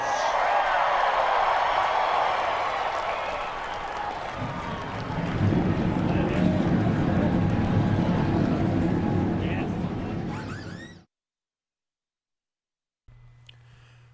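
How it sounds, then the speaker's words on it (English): Race truck engines rumble together at the start of a NAPA Truck Series race at Atlanta Motor Speedway in a racing video game, a broad droning roar under crowd-like noise that swells midway, then cuts to silence before a faint low hum returns. "Start your engines!"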